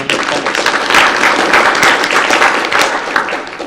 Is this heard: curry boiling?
no